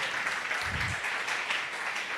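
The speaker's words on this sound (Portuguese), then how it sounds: "Uma salva de palmas à vida da Jéssica, por favor" Church congregation clapping at an evening service, a steady, fairly soft wash of applause filling the room for a couple of seconds.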